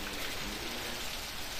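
Heavy rain falling, a dense, steady hiss of drops that stays even and unbroken throughout, with no talking.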